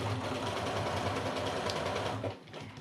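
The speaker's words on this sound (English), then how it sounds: "I'm going to put it underneath my machine and sew it." A sewing machine stitching quilt pieces for a Friendship Star and Checkerboard block, a steady close mechanical whir running almost three seconds before easing off at the end.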